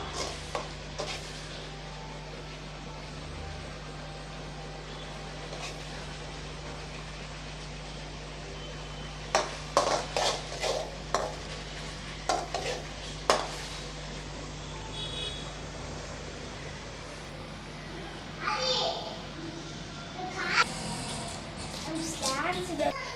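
Mango thokku bubbles and is stirred in a pan on a stove, a soft continuous simmer with scraping strokes and a few sharper clatters, a voice speaking intermittently over it.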